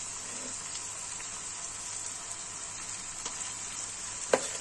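Korameenu fish curry with tomatoes frying in a pan, with a soft, steady sizzle and a single sharp clatter near the end.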